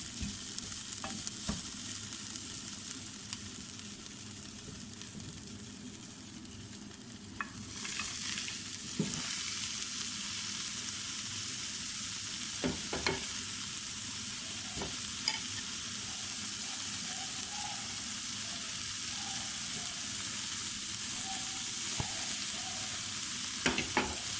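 Onions already lightly browned, then mixed vegetables tipped in and frying in a pan with a steady broadband sizzle, broken by repeated scraping stir strokes and spoon knocks throughout.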